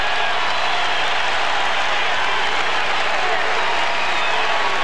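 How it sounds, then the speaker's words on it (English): A crowd of about 17,000 in Indiana's Assembly Hall basketball arena rises to its feet, cheering and applauding loudly and continuously; a broadcast commentator's voice runs underneath the roar. "he wants more crowd involvement, and they respond. They're on their feet."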